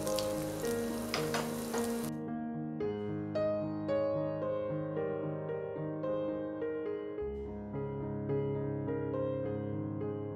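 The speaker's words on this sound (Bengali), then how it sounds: "লঙ্কার আদাটা একটু ভাজা হয়ে এলে" Grated ginger and green chilies frying in oil with a bay leaf for a paneer curry give a bright, close sizzle for about two seconds before music takes over.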